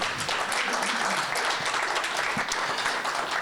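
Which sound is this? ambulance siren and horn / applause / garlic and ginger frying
applause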